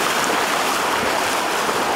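Steady broadband wash of ocean surf at Horseshoe Bay beach in Bermuda, continuous and fairly loud, with no voices.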